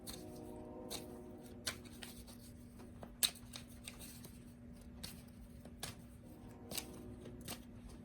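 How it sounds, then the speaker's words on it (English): Tarot cards are shuffled quietly at close range, a soft papery riffling broken by irregular crisp clicks and snaps of cards slapping together. "So let me finish shuffling these cards."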